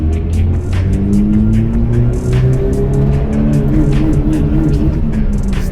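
A Toyota AE86 in limp mode driving along with a steady, loud engine drone and shifting tones rising and falling as it chugs, heard from inside or near the car with no talking.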